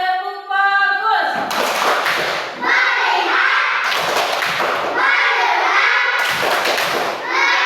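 Schoolchildren in a classroom perform the tepuk fokus clapping chant, with rhythmic bursts of claps and thumps between loud chanted voices in a repeating pattern.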